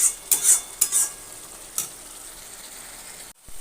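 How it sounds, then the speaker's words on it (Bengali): Potatoes frying with ground cumin and other spices in a pan, several sharp scraping stirs early on over a soft steady sizzle that then continues alone. "একটু কষে নিয়ে এবার দেবো আলুটা"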